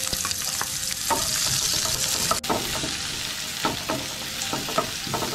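A roughly chopped medium onion frying in oil with cumin for Punjabi rajma masala: a close, steady crackling sizzle, with a spoon stirring and scraping at irregular moments.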